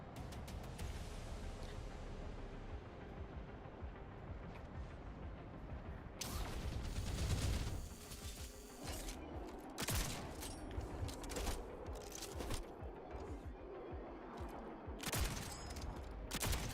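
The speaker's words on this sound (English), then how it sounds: "Pilot cannon did 0 damage." Pilot cannon firing in a video game: rapid bursts of booming, crackling gunfire that start near the midpoint and repeat in sharp volleys, fairly faint overall.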